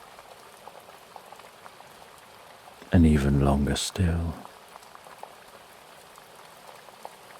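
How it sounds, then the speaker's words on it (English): Steady rain patters softly around a cozy farmhouse, a faint continuous hiss with scattered droplet ticks, briefly interrupted midway by a calm narrating voice. "it sounds like that rain is calming"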